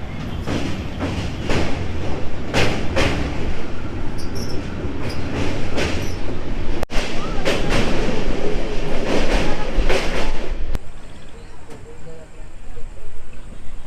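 Coalfield Express train crossing the Barakar River at night between Howrah and Dhanbad, a steady loud rumble of wheels and carriages with rhythmic clatter and brief sharp bangs, someone talking over the din.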